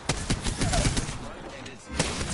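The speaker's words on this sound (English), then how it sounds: "Getting shot at." Rapid gunshots in a first-person shooter game, a quick series of sharp cracks repeating close by, with a person talking over the shooting.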